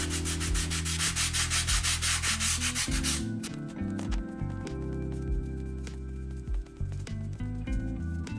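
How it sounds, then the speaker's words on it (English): Sandpaper rubs the edges of a rudder for a P-47 Thunderbolt Razorback RC model plane, a steady rhythmic scraping at close range that runs loud for about three seconds before giving way to quieter, intermittent strokes. "And for the rudder, sand all edges."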